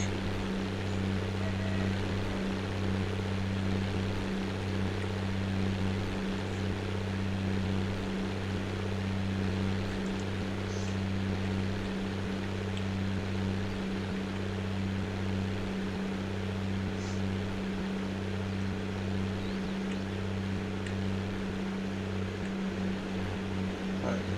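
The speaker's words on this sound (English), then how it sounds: "Away we go now with our own tractor. Nice sounding" An MB Trac tractor engine in a farming simulator game, running at a steady, loud, droning idle-to-cruise hum with a strong low rumble that persists without break throughout.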